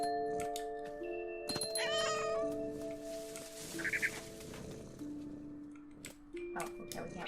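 A cat meows repeatedly in the video game What Remains of Edith Finch, short mews set against sustained game music tones, with a louder cry in the middle.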